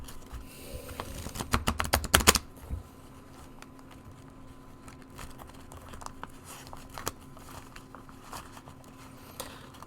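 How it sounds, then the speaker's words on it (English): Tarot cards are shuffled with a quick burst of riffling flicks, followed by softer scattered taps and slides as cards are dealt onto a surface, fairly close and quiet. "let's shuffle and deal."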